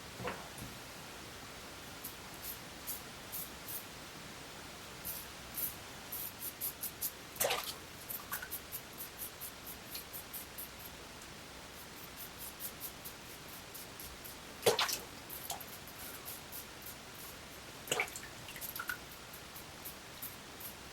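A razor making a cross-grain pass over a lathered face with Le Pere Lucien shaving soap, quiet rasping scrapes in short bursts with a few sharper strokes, close and faint against a low hiss.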